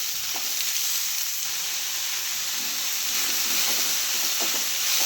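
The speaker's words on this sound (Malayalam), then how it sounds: "സവാള നന്നായിട്ട് വഴണ്ടി വെക്കാം" Onions and curry leaves sautéing in a pan for a Kerala-style egg curry, producing a dense, continuous close hiss and sizzle with faint stirring scrapes throughout and no talking.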